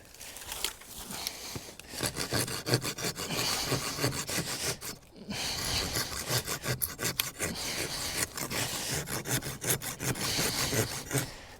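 Wooden sticks rubbed together by hand to make fire outdoors: a continuous dense rasping friction, close and loud, running in steady rapid strokes with one brief pause midway, no talk.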